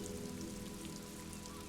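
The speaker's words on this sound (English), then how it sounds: "Rain falls down on the world." Steady rain falling in the Disco Elysium game, a dense, even patter of drops hissing on surfaces, soft and continuous with no voices.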